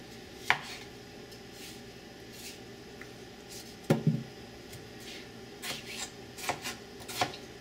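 A knife cuts tomatoes in half on a board, a few separate crisp chops and thuds spaced over several seconds, close and fairly quiet, with no talking.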